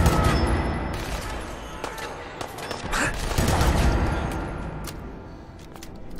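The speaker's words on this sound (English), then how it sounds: "one of the other ones picked up the minigun." Minigun fire in the video game Fallout 4, a dense rattling fusillade that runs nearly unbroken, swelling and easing, loud and close with booming low end.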